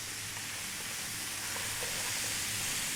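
Spices fry in a pan for a sweet banana coconut masala curry, a soft, continuous low sizzle heard close and fairly quiet, with no talking.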